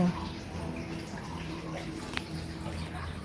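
Water sprays steadily onto rose bushes in a garden during hot-season watering, a constant hissing wash under occasional talk, with one brief sharper splash.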